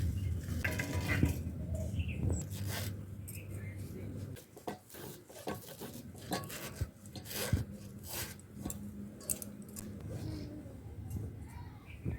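Fresh ginger being ground by hand on a traditional grinding stone, a steady gritty rubbing and rasping with scattered knocks and clicks, close and fairly loud, with no talk over it.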